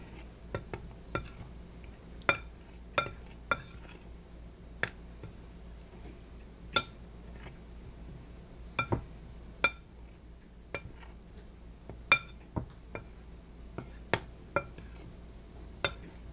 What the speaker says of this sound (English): Just mix the dry ingredients a little.